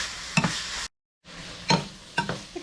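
Eggs being stirred for a breakfast sandwich, a few distinct scraping clinks of a utensil against the pan over a steady sizzling fry, briefly cut to silence partway through.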